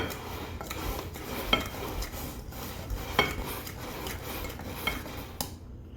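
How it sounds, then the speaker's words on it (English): Pasta dough with semolina is mixed in a large bowl, giving a continuous close, gritty rubbing and scraping with occasional light clinks of a utensil against the bowl and no voices. "Put a little more semolina in there, and you can use a nice large bowl. Mix it all up."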